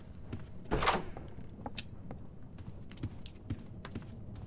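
A door opens in the video game Doors, a single soft thump and scrape near the start, followed by scattered light clicks and taps over a quiet background with no talk.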